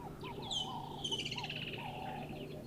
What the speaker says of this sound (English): Nice to listen to those woodland kingfishers, those Jacobin cuckoos